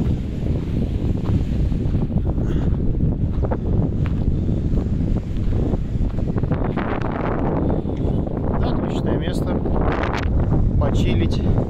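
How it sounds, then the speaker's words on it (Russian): Heavy wind buffeting a microphone on a walk in Vancouver, rumbling and gusting throughout, with surf-like wash and occasional voices underneath. "А, ветер. Да, думаю, у меня будет сплошной шум на записи."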